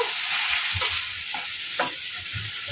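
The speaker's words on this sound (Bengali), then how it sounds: "আদা রসুন জিরা সামান্য হলুদ সামান্য মরিচ লবণ মশলাটাকে না কষাবো" Ginger, garlic, cumin, turmeric, chilli and salt being sautéed in a pan give a close, steady hiss with a few soft scraping stirs over a brief stretch, without any speech.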